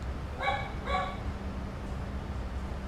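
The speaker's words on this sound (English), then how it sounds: "Fucking dogs." Two short dog barks ring out in quick succession, somewhat distant and faint, over a steady low background hum.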